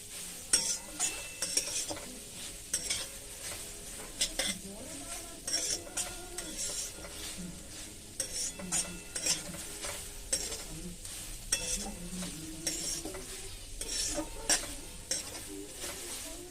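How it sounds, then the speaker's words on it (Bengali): Grated carrots for gajar halwa are stirred and fried in a pan, with a steady sizzle under repeated scraping and clinking of a spoon against the pan, close and moderately loud throughout, no talking. "এরকম করে নেড়ে চেড়ে একটু ভেজে নেব।"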